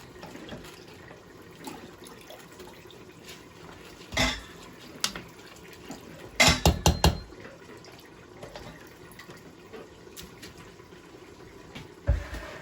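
Soaked rice tipped into a cooking pot for mutton pulao, wet grains sliding in with a few clattering knocks of a utensil against metal, then quieter kitchen sounds.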